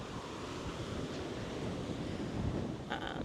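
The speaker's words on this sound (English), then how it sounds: "It's windy" Steady wind rushes over the open sea at a Maldives resort, a continuous broadband roar with buffeting against the microphone and surf washing underneath, fairly loud throughout with no talking.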